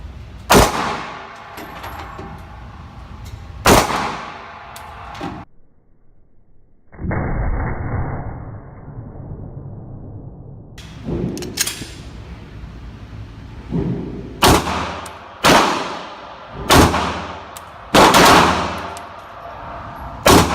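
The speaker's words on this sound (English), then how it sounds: "going to shoot some guns" Gunfire at the Orlando Gun Club range in Florida: loud sharp shots ring out, a few early then a quick cluster near the end, with a longer noisy stretch of range sound in between and no talking.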